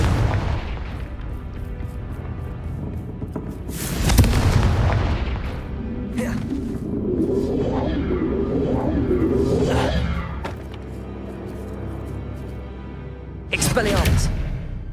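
A Confringo fire spell from the Hogwarts Legacy video game bursts with a loud booming blast and whoosh, followed by rumbling crackle and a second burst near the end, with a voice calling out the spell.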